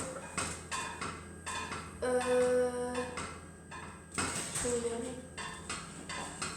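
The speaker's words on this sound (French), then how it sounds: "On va allumer le gaz. Je vais mettre la casserole là-haut." A metal saucepan clatters and clanks onto a lit gas stove, with a ringing scrape around the middle and another toward the end, close and fairly loud.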